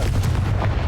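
A Confringo blasting spell cast in Hogwarts Legacy, heard as a loud, dense burst of rumbling explosive fire with no pause, alone and close.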